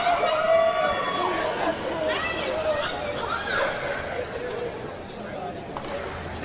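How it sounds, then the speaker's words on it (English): LSU teammates make noise around the starting area at the 2021 NCAA Track and Field Championships. Their cheering blends into a steady, fairly distant crowd babble under a commentator's continuous talk. "So enthusiastic LSU teammates making a lot of noise around the starting area."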